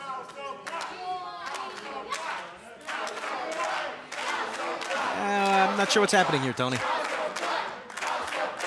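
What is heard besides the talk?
wrestling crowd doing the House of Black cheer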